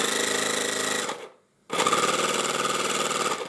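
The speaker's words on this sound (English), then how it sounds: "So it will be more silent through this one and more noisy, the compressor, through this one." A car air compressor runs with a loud, steady rattling pulse like a jackhammer. It cuts out for about half a second, then starts again at the same strength, close up and with no talk over it.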